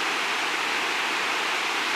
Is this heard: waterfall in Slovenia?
yes